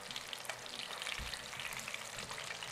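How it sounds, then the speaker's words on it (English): Yellow perch fillets pan fry in a skillet, a steady, close hiss and crackle of sizzling oil with a few soft low bumps from the pan, no talking. "I'll pan fry it 2 minutes on each side"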